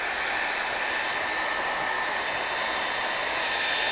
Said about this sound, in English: I'm going to hit this a little bit with my dryer and speed up the drawing of this a little bit.